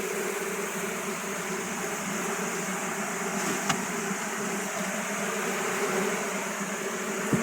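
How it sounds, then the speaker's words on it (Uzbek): Honeybees hum steadily at an apiary as bees from a nucleus colony are shaken into another hive, a continuous close buzzing drone with no talk over it. "Mana bu nukleusdagi arilarni mana bu oilaga juda qoqib qo'shib yuboryapman"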